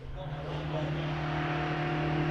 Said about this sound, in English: Richard Pates goes away in the MG ZR 160